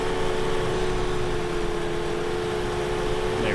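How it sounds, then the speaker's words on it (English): A loud tractor engine in Farming Simulator 17 drones steadily from inside the cab, a constant mechanical roar with a tonal whine and no talking. "Perhaps people don't like this tractor because it's loud, which is definitely true."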